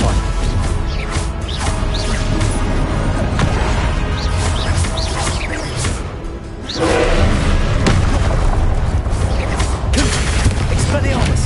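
Spell combat in Hogwarts Legacy, with a Stupefy stun spell cast amid dense, loud battle effects. Booming thuds and impacts are layered over continuous game noise. There is a brief lull before a sharp surge of sound.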